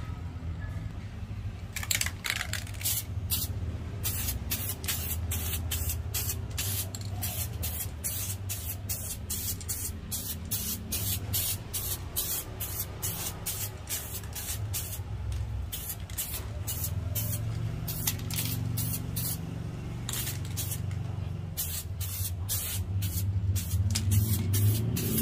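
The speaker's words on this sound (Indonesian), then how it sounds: "jadi kita semprotkan tipis-tipis dan setelah itu kita tunggu kering" A spray gun lays thin coats of black paint on a Honda Vario 150 motorcycle body panel, in dozens of short hissing bursts with small gaps between them over a low background rumble.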